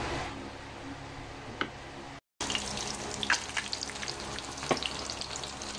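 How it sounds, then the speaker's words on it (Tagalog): Onions with black pepper frying in a pan, a continuous crackling sizzle with scattered pops and a brief cut of silence partway through. "Yan, may paminta na, pipirituhin ko na."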